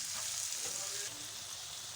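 Tomatoes are mixed and fried in a pan for a spiced masala omelette, giving a soft, steady sizzle that is faint and continuous for two seconds with no voice.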